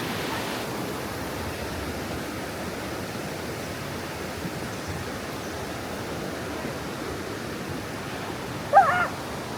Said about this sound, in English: Here you can see the river running down there.